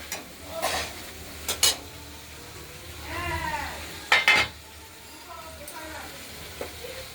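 Ground spice paste frying in oil for an aair fish curry with potato and tomato gets a splash of water: steady close sizzle, sharp bursts and clatter of stirring, a faint voice briefly underneath.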